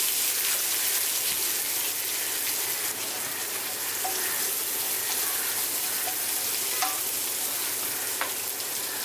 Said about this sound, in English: I'm frying the ginger, garlic, chili paste till the raw smell goes away